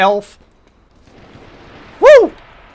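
Two sharp gunshot bursts in the video game H1Z1 Battle Royale, one at the start and one near the end, loud and close against a quiet background.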